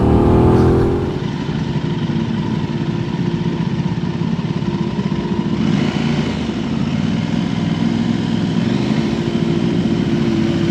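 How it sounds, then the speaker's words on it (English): Motorbike engines on a road, a steady loud drone with a swelling roar as bikes close in from behind, no voices over it. "I can hear motorbikes behind me, coming up behind me."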